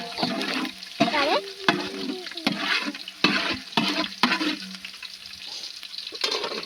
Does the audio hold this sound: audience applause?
no